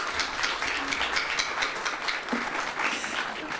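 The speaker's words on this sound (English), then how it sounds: "Let's give her another round of applause." Sustained audience applause at a building dedication celebration for a student services center, a steady wash of many hands clapping at moderate loudness throughout with no speech.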